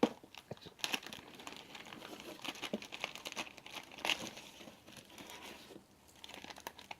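A drone being unpacked from polystyrene packaging, giving faint crinkling, rustling and scraping handling noises in irregular bursts throughout, close by and quiet.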